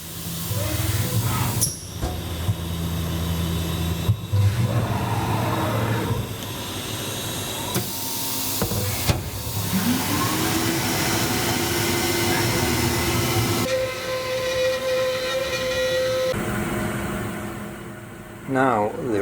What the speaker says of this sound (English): now Elisabeth on the touch panel of the Organical desktop is starting the milling process, a quite noisy work